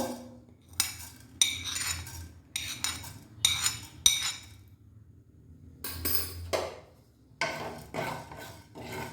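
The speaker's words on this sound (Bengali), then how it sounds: "মশলাগুলো এক এক করে ফ্রাই প্যানে দিয়ে দিচ্ছি" Dry whole spices, including coriander, patter and rattle into a frying pan in several short bursts with pauses between, followed by scraping and rustling; close and moderately loud, no talking.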